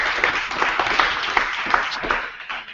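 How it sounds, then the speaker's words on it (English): A crowd at an entrepreneurs' pitch event applauds its sponsors, with sustained clapping from many hands and a few louder individual claps, tapering slightly toward the end. "So give a round of applause to our sponsors, please."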